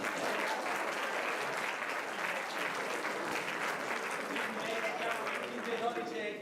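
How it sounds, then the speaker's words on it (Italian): Audience applause fills a theatre during a comedy stage show by an amateur Friulian drama company, a dense, sustained wash of many hands clapping at steady loudness throughout, with no voices rising above it. "Un bel applauso!"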